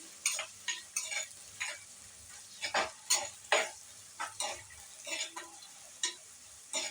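A spoon stirs garlic, ginger and onion frying in a pan with a series of distinct scraping strokes over a soft sizzle. The strokes are fairly quiet and come in an uneven rhythm.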